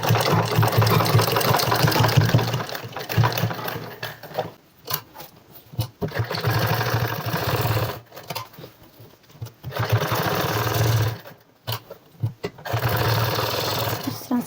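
A sewing machine stitches a seam on a women's trouser, its motor whirring in steady bursts that stop and restart several times, close and fairly loud.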